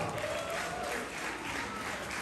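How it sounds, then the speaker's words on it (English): Wedding guests at a New York reception applaud after a speech, a soft, steady wash of clapping heard from a distance, fairly faint and continuous throughout. "Please give a round of applause."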